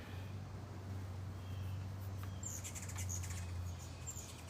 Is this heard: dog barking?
no